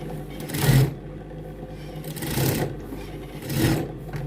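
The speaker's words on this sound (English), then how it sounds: "to stitch up the pocket to the waistline so it won't be moving" A sewing machine stitching a trouser pocket to the waistline runs in three short whirring bursts about a second apart, separated by quieter pauses, close and with no voices.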